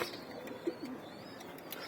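Pigeons on a rooftop loft giving a couple of soft, low coos against a quiet background, faint and brief with no talk.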